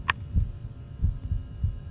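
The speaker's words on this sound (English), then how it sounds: "My heartbeat's actually pretty close." Low thudding heartbeat in a horror video game, several soft pulses spaced roughly evenly, close and muffled over a faint hum.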